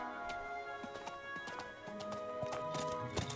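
Horse hooves clip-clop in a steady trotting rhythm in the video game Horse Riding Tales, with occasional whinnies over a layer of tonal game music.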